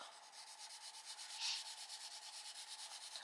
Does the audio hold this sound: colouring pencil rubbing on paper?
yes